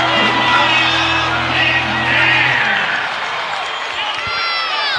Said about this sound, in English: And that should get the Aggie crowd going.